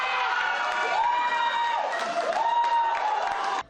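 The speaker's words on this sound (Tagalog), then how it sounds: "Walang tigil sa hiyawan at palakpakan sa tuwing makakapuntos si Ayala." Crowd at a sports bar watch party in Pasig City cheering and clapping during a tennis match, a steady dense roar of voices and whoops with applause underneath throughout.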